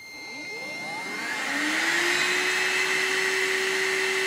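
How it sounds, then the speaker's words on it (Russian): Redmond RV-UR356 cordless vacuum cleaner switching on at minimum power, its motor whine rising over about a second and a half and then holding a steady, close, fairly loud hum. "Пылесос включается всего лишь одной кнопкой."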